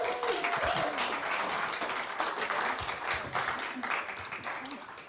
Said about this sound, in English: Would you give them another round of applause?